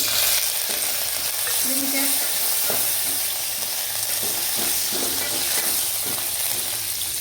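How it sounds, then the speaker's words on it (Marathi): Cloves and cumin seeds sizzle in hot oil for a tempering, a continuous close crackle and hiss with light spoon clinks and stirring against the pan. "लवंगा टाकून घ्यायच्या कारण लोंगा गरम झाल्यावरती त्या उडतात"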